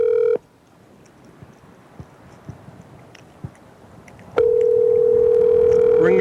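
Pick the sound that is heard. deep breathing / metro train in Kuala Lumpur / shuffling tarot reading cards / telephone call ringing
telephone call ringing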